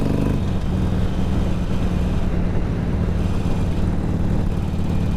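A Harley-Davidson 883 Sportster with loud exhaust pipes rumbles steadily as it rides, a continuous deep low engine drone with wind noise and no talking.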